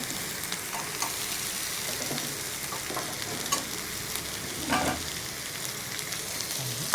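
Grated coconut sautés in a hot pan with a constant, dense sizzle and occasional stirring scrapes and soft knocks of a spatula, close and steady, without speech.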